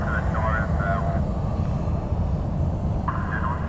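A jet airliner, a North Atlantic Air Boeing 787 from Oslo arriving at Fort Lauderdale airport, gives a steady, loud engine roar, with faint tonal whines heard briefly.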